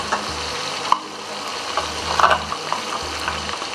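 Chorizo and lardons fry in a pan with a steady, close sizzle and light crackle, plus occasional scraping and stirring knocks.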